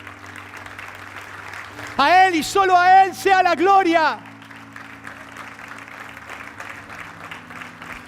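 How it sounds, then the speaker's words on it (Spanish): A Spanish-language church congregation applauds during a sermon, with a steady clapping wash running under a voice as he proclaims. "Dale un aplauso al Señor."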